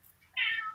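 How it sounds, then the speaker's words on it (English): A house cat gives a single clear, close meow, short and rising, after a brief quiet moment. "That's my cat."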